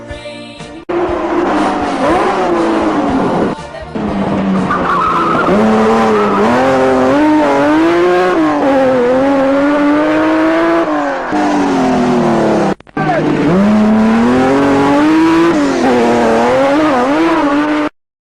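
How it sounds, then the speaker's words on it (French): A BMW M1 Group B rally car drives hard along a narrow stage, its engine loud and close with rising and falling revs, tyre squeal and skids, continuous for most of the span with a brief gap near the end. "Darniche, au volant de cette ravissante BMW M1, mais est-ce bien la voiture convenable pour ces pistes étroites"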